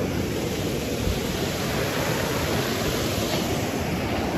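A waterfall on the Ruta de las Cascadas near Baños, Ecuador roars as a dense, steady rush of falling water, loud and unbroken throughout with no voices.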